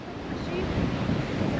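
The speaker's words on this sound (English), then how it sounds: "so windy" Gusty wind at the Bay of Fires, Tasmania, roars across the microphone in a steady, rough rush, with a faint hint of surf underneath.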